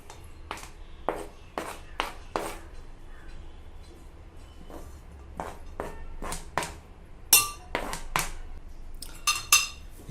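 A spoon mixes quinoa chilla batter with salt, turmeric and chopped ingredients in a bowl, giving irregular sharp clinks and scrapes against the bowl over a low background hum.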